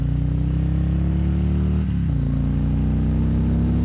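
A Harley-Davidson Electra Glide Standard bagger motorcycle accelerates hard under a loud, steady engine drone, with a brief dip around a gear shift before pulling strongly again, close by.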